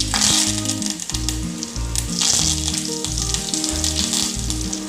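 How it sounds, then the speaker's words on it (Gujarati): Curry leaves hit hot oil with a loud, crackling sizzle that fills the whole moment, spattering steadily while a Gujarati batata vada tempering is prepared. "થોડા કડી પત્તા લીધા છે તે એડ કરીશું."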